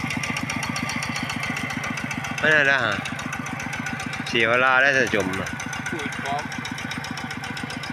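A small walk-behind tractor engine chugs with a steady rapid idle in a wet clay field, running throughout while a voice speaks briefly over it twice.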